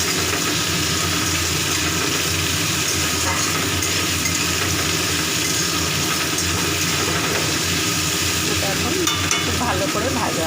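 Onions and potatoes with green chillies fry in a pan, giving a steady, close, loud sizzle with faint stirring throughout and no talk.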